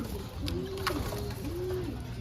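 Racing pigeons in a loft coo in two or three rolling, low calls close by, over a constant background hum; no talking.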